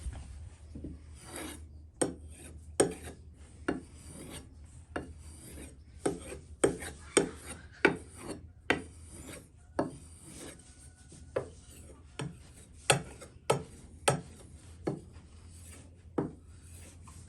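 A K390 steel knife stroked across a green compound strop, giving repeated dry rasping swipes in a steady back-and-forth rhythm, close and fairly quiet, with no talking.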